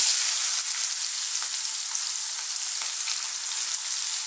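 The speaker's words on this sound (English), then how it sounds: "We'll add our onions now." Chopped onions go into a hot pan of spiced oil for a vegan mushroom chickpea curry, giving a steady, close, crackling sizzle with faint stirring and no talking.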